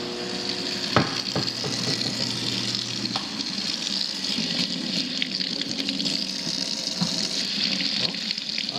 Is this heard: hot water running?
yes